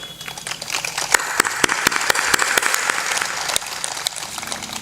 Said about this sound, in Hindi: अभी भी तालियां तुम्हारी ऐसी कमजोर हैं